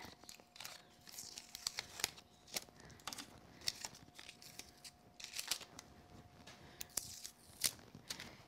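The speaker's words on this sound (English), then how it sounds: "Peel up our tape" Crafting tape peeled up from a woven lattice frame project, giving a series of short, sharp tearing and crinkling strips with brief pauses between pulls, close and fairly quiet.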